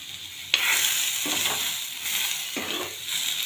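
Tomato, ginger and garlic being sautéed on a griddle give a steady close sizzle with occasional stirring scrapes across it, and no voices.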